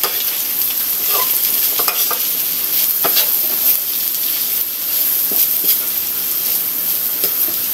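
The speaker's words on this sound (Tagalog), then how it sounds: "Haluin natin." Canned tuna frying in a pan, a loud steady sizzle and hiss close up, with soft scraping knocks of a spatula stirring at irregular moments throughout.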